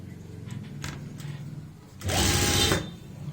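A sewing machine runs a quick, loud burst of stitching on a kurti neck, close up, following quieter handling and rustling of fabric.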